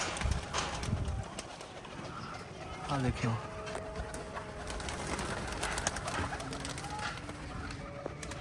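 Pigeons coo softly around a keeper handling caught and stamped pigeons, low throaty calls repeating in the background beneath someone talking close by.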